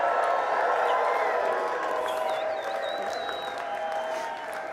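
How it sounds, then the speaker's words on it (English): A crowd at a live winter speaker event cheers and applauds steadily to urge a winner forward from the back of the room, a dense continuous roar of clapping with a few whoops and whistles rising above it. "We have to cheer her until she gets to the front"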